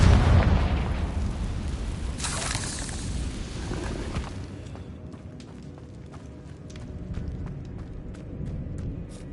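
A Confringo blasting spell goes off in Hogwarts Legacy, a loud broad explosive boom with a rumbling burst up front that fades into a quieter cave-like ambience with scattered small crackles.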